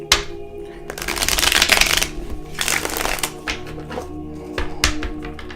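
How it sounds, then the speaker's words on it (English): Tarot card decks riffle-shuffled in a few loud, dense bursts with brief pauses between, close up, with no talking. "I pre-shuffled my decks, but I like to shuffle them one more time"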